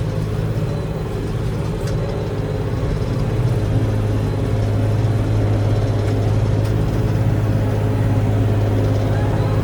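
A tractor engine runs steadily at a constant idle-like drone, a low rumble with humming tones holding evenly throughout and no voices over it.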